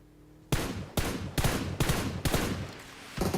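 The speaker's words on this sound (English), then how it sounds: "Team E Arena and BTR, man, they're just exchanging shots" Bursts of gunfire ring out during a fight between two teams in a battle royale game: six sharp, loud shots spaced roughly half a second apart, each with a short ringing tail, and no talking over them.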